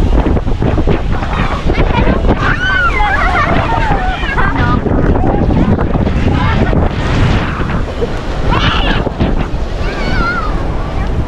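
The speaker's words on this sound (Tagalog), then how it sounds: "Sobrang lakas ng hangin" Strong wind buffets the microphone in a constant loud roar on the shore at Wawa II, Rosario, Cavite, with surf and water noise underneath and faint voices in the background.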